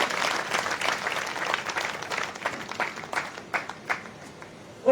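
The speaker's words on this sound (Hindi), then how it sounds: "आज एक बार बधाई की तालियां होती है" Birthday applause from the audience at a Hindi poetry gathering in Etawah, a crowd clapping steadily that thins into a few scattered, sharper claps toward the end.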